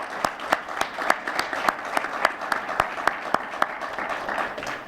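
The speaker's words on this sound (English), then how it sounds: "we ought to give him a big round of applause." Steady applause from an audience fills the space, with a few louder individual claps standing out in an uneven rhythm.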